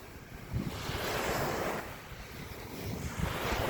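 Ocean waves surge and break along a shore in steady rolling swells, with broadband rushing surf rising and falling over a few seconds and some wind noise on the microphone during an outdoor walk.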